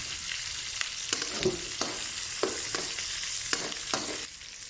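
Garlic and onion sizzle in hot oil in a pan for beef estofado, a steady close frying hiss broken by short stirring scrapes, with no talking.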